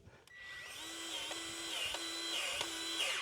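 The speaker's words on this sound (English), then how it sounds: "So you could hear the grease gun stalled out, basically." Grease gun pumping into a clogged grease zerk fitting, a close mechanical motor whine rising and dipping repeatedly as it strains and stalls.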